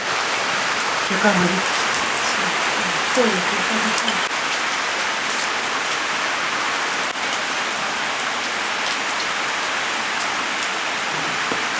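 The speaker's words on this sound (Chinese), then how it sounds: "下雨了" Steady rain hisses throughout, a dense wash of drops on a surface, with faint voices briefly audible early on.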